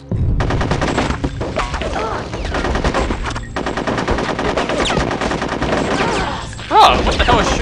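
Rapid automatic gunfire fills the Conker's Bad Fur Day video game, a dense and continuous rattle of shots that runs almost unbroken, loud and close, with a voice speaking briefly at times.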